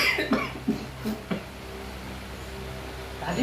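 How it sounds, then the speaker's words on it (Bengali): A series of about four short, dry coughs in quick succession from a nearby person, fairly quiet, followed by a brief pause and another faint cough at the end. "বুড়ো কাশি হয়েছে"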